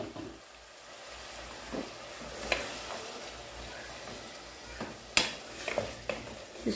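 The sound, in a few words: stirring marinated boneless chicken and green chillies frying in pan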